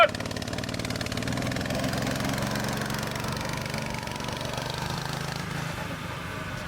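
A motorbike engine runs close by at a steady, rough idle that carries on throughout, loud and continuous, with a slight drop in pitch and level toward the end and no talk over it.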